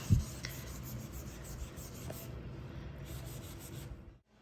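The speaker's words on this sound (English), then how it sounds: "I might just have to try to scrape this one out." Scraping of primer out of the grooves of a piece of furniture being flipped: a steady rough rubbing and scratching that runs continuously for about four seconds at close range, then stops abruptly.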